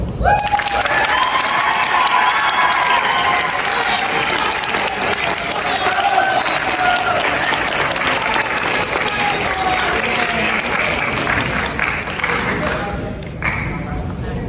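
Steady applause from a crowd fills nearly the whole stretch, dense clapping that holds at an even level before thinning out near the end.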